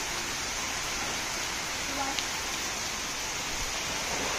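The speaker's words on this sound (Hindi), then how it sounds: "और देखिए यहाँ हो रही है बहुत ही मूसलाधार बारिश." Heavy torrential monsoon downpour over a flooded lawn, a steady dense hiss of rain continuous throughout the clip with no break, close and fairly loud.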